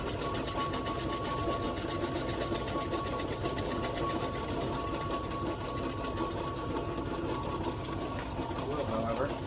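Steady grinding and rasping from a lathe cutter machining dry cast iron without oil, a continuous scraping drone under a motor hum, with someone talking over it.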